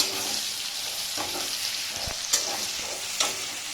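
Onions frying in a pan for a home-cooked desi chicken kassa, a steady close sizzle with a couple of faint clinks and stirring scrapes, no talking.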